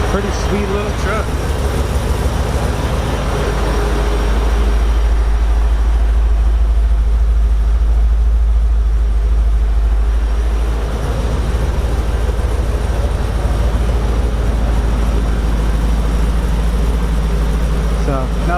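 An LS-swapped Chevrolet C10 truck idles with a steady, deep, loud rumble that continues unbroken for the whole stretch, with a constant low drone and no revving.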